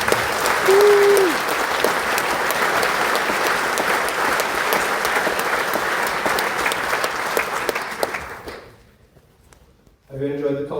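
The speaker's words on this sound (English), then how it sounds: "Let's give them another big round of applause." Audience applauding a brass band in a theatre at a brass festival; dense, steady clapping runs loud for about eight seconds, then fades out to near silence before a voice speaks.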